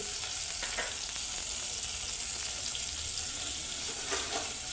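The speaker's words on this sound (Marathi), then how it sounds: "हे सगळं तेलामध्ये परतवून घ्यायचं" Roasted eggplant with spices, coconut and peanut powder sizzles in hot oil, a steady close frying hiss with faint stirring scrapes and no voices.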